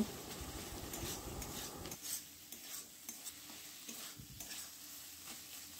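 Fish is stirred with ground cumin, fish curry masala and chilli powder for fish chop, with a soft sizzle and scraping spoon strokes close by that quiet after the first two seconds, leaving faint intermittent scrapes.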